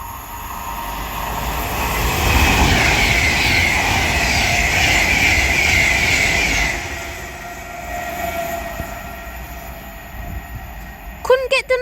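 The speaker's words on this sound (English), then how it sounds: "Now passing through is going to be another Avanti West Coast Class 390 Pendolino." An Avanti West Coast Class 390 Pendolino passes through Tamworth station, building to a loud, sustained whoosh and rumble for several seconds before fading away, with faint clicks near the end.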